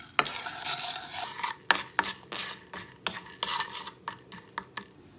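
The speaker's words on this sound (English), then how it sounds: "Then I'm going to slightly roast cumin seed, coriander seed and pepper" Cumin seed, coriander seed and pepper being dry roasted in a pan, with repeated sharp scraping and stirring clicks over a faint rustle of tumbling seeds, close and moderately loud.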